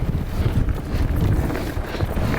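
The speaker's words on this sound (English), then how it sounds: "Oh, so windy." Strong wind buffets a microphone with a constant low roar and gusty rumble, loud and close, no voices, during a bike ride on a trail with wall rides.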